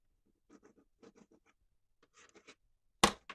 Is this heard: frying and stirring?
no